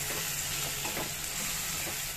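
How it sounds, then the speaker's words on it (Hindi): Crushed ginger and garlic frying in oil with onions in a pot for mutton stew, a steady soft sizzle with faint stirring, quiet and continuous. "2 मिनट के लिए इसे भी भून लेंगे प्याज के साथ।"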